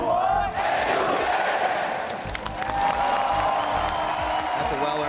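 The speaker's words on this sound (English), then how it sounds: "they've been very loud today cheering for H2K from the start" A loud arena crowd at a League of Legends EU LCS Summer 2016 playoff match between Unicorns of Love and H2K roars and cheers in a sustained, dense wash, with commentators talking over it.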